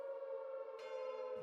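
Air raid siren used as a sound effect in a homemade song: a steady wailing tone with harmonics that thickens partway through, loud and alone with no voices.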